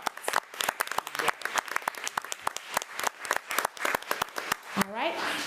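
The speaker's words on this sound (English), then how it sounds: "So let's give Ms." Audience at a regular school board meeting breaks into a round of applause, a dense patter of close and distant claps running steadily for several seconds before a voice starts speaking at the very end.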